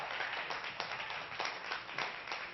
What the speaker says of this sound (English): Another round of applause for Pat Bianchi Trio.